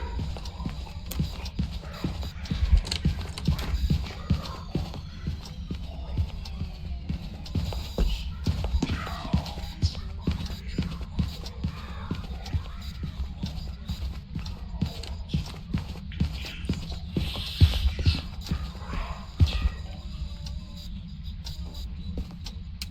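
Ghost footsteps in the video game Phasmophobia, a steady run of quick, slightly faster-than-average steps thudding continuously over a low rumbling ambience with faint game noise.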